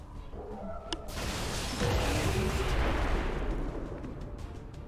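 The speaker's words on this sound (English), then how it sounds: "some more explosions." Game explosions in XCOM 2 during a tactical battle, a loud sustained rumbling blast that bursts in about a second in and rolls on as a dense, noisy roar with crackling debris to the end.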